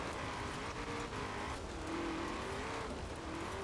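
A Ford Falcon FE muscle car in Forza Horizon 4 spins its wheels on dirt, its engine droning steadily with tire noise over a constant wash of race sound and no voices.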